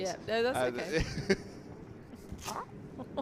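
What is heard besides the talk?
Velcro being pulled open on a clothing top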